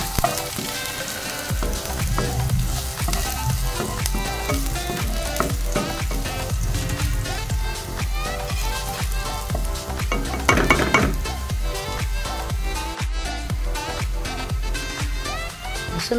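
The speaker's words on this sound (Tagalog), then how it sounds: "Ihulog na natin ang ating bawang. Haluin natin hanggang sa mag-brown" Garlic sizzles and crackles in hot oil in a pan, with a spoon scraping and stirring it steadily and loudly. The frying runs continuously throughout, and no one speaks.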